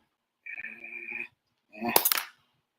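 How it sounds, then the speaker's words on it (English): Dice are rolled onto a hard surface, giving a brief clatter of tumbling and bouncing clicks after a short tonal sound, loud and close with no talk over it. "Get some dice. You roll it every one."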